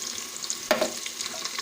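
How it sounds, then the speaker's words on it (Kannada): Chopped tomato drops into hot tempering for a village-style fish curry, giving a sharp sizzling burst, then a steady, moderately loud frying crackle close by. No one speaks. "ಒಗ್ಗರಣೆಗೆ ಇವಾಗ ನಾವು ಕಟ್ ಮಾಡಿ ಇಟ್ಕೊಂಡಿರುವ ಟೊಮೊಟೊ ಸೇರಿಸ್ಕೋಬೇಕು."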